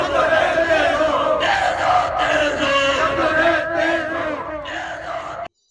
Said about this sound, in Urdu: شہریوں نے اس موقع پر حکومت کے خلاف شدید نعرے بازی بھی کی۔